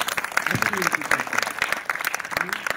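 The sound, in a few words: applause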